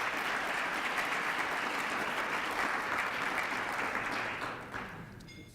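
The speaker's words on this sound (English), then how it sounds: "Round of applause." A dinner audience at the Richmond Dialogue Dinner applauds in a dense, steady roar of many hands that holds evenly, then fades out near the end.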